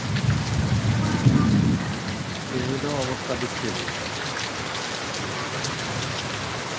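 Heavy rain pours down steadily with a low rumble of thunder early on, loud and close, while a voice briefly speaks over the downpour.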